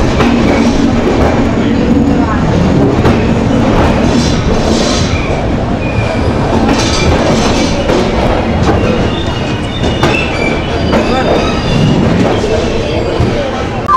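The 12056 Dehradun Janshatabdi rolls into its Haridwar halt with a loud, steady rumble of wheels and carriages and faint clatter. Onboard noise continues throughout.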